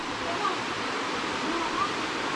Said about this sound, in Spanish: Mire, allá está la otra cascada.